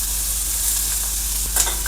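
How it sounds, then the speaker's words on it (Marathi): Mustard seeds, cumin, curry leaves and asafoetida splutter in hot oil, making a loud, steady close sizzle with scattered sharp pops, including a brighter crackle near the end, and no voices. "तेल गरम झालंय, मोहरी छान अशी तडतडली आहे।"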